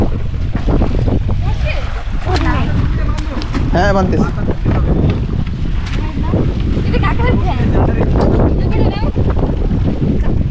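A boat out on windy, choppy water near Andaman, its repaired engine running as a constant loud rumble, with heavy wind buffeting the microphone and voices talking over it.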